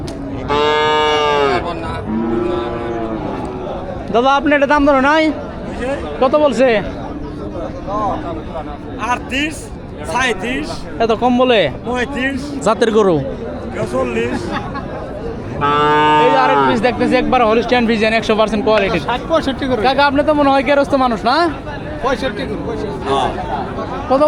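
Cattle and young calves at a Bangladeshi cow market selling Holstein Friesian, Jersey, Sahiwal and Sindhi heifers, with loud, drawn-out moos near the start and again mid-way over constant crowd chatter and nearby talking.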